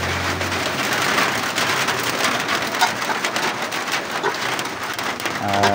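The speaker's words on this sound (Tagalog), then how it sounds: "Umuulan na, tol." Heavy rain pours down steadily, a dense hiss of drops pattering on surfaces close by, with no pauses.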